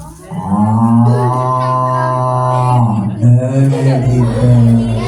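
A storyteller's voice imitates a cow mooing for children, one long drawn-out low moo followed by a shorter second moo, loud and close, with light room noise behind it.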